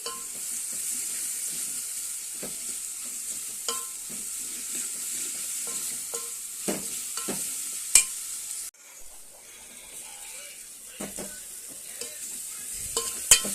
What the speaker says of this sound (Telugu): అల్లం వెల్లుల్లి పేస్ట్ కూడా బాగా ఏగింది ఏగుతుంది ఆనియన్స్ కూడా ఏగినాయి